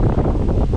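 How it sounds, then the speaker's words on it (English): Strong outdoor wind buffeting a microphone, a dense low roar that stays loud and continuous for a brief moment, with no voices. "Oh my gosh, it is so windy"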